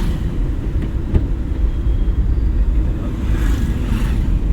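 Driving school car pulling away in third gear, a steady low engine rumble and road noise held close and constant throughout, with no voices.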